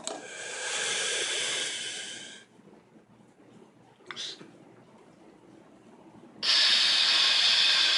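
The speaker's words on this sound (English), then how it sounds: "listen for the hiss and listen for no inhale" Air hisses out through a trumpet before the note is played: a broad breathy rush at the start, a brief soft puff midway, then a louder steady hiss at the end, with no words spoken.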